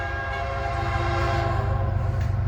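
A Union Pacific freight train passes the River Rd crossing in Chapel Hill, Tennessee. Its horn sounds loud and sustained over heavy rumbling rail noise, close by and continuous.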